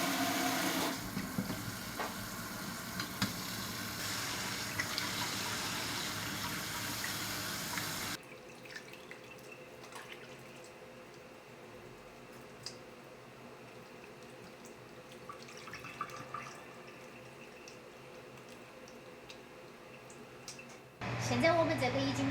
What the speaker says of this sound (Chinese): 我们现在用温热水给它漂洗一下